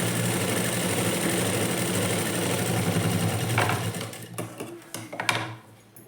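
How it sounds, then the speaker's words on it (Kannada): A sewing machine runs steadily and loudly, stitching a blouse sleeve onto its lining, then slows and stops near the end, leaving a few short mechanical clicks and rattles. "ಲೈನಿಂಗ್ ಮೇಲೇ ಸ್ಟಿಚ್ ಹಾಕೊಳ್ಳಿ"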